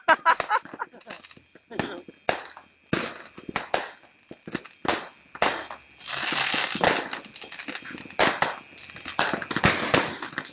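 Sharp firecracker bangs pop repeatedly at irregular intervals, some in quick bursts, with crackling and people talking in the background.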